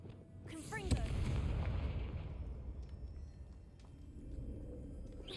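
A Confringo spell explosion in the video game Hogwarts Legacy: one sharp, loud blast followed by a sustained rumbling roar that slowly fades over several seconds, with a softer thud near the end.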